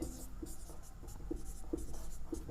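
Pen scratching across paper in quick handwritten strokes while working through a class 10 maths exercise, a close, steady run of short scribbles with brief pauses between words.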